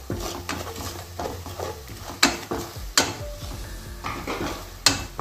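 A spoon scrapes and clinks against a pan as garam masala and coriander powder are stirred in over a light sizzle, with sharp metallic knocks in an uneven rhythm.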